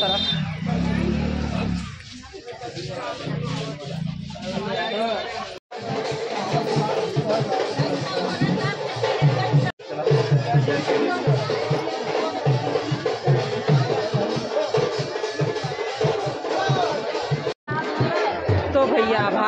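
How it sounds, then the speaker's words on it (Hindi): Dense crowd chatter at a busy Hindu temple fair at a Sheetla Mata shrine, with stalls lining the path, a continuous babble of many voices close around, with occasional laughter and passing vehicles. "तो भैया भारी भीड़ बचीरते हुए पहुंच गए धाम पर"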